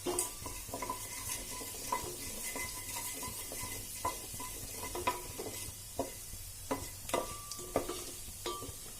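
Cumin seeds and a pinch of asafoetida crackle and sizzle in hot oil for a Sindhi-style whole moong dal, a steady close hiss broken by sharp spoon clinks and stirring taps against the pan.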